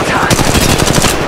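Automatic gunfire from the mobile game Apex Legends Mobile rattles loud and close in a rapid, continuous burst.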